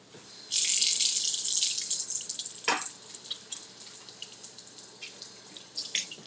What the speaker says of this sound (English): And then let me wash my hands.